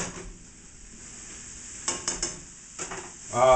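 Chicken sizzles in a pan with a soft steady crackle, while a utensil spreads it around in a few louder scraping bursts near the end, with no talking.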